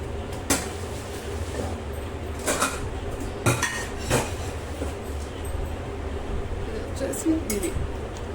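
Pigeon steel cookware pots and a fry pan clink and tap against each other in a few sharp metallic knocks, spread irregularly over a steady low background rumble.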